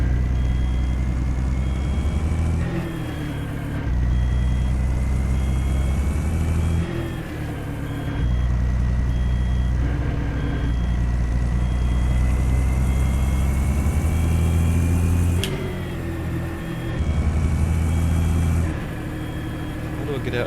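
Freightliner FLC truck engine in American Truck Simulator, heard from the cab with the window open: a steady, loud diesel drone with shifting pitch and brief gear-change dips, continuous throughout.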